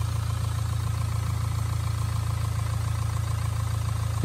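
A car engine runs at a steady idle, a loud, even low rumble that holds unchanged throughout with no voices.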